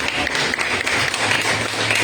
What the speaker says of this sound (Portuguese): Aplauda o Senhor então.